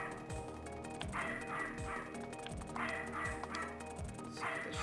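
Dog barking and whimpering in the Sega CD video game Snatcher, a run of repeated barks and yips with whines in between, steady and fairly loud against game music.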